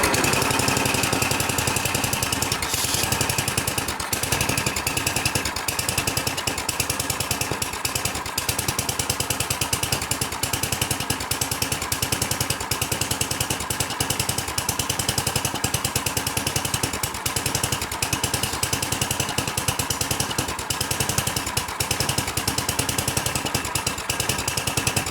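A snow blower engine running after a tune-up with its throttle raised slightly, giving a steady, rapid thumping exhaust note that carries on evenly for the whole stretch without talk.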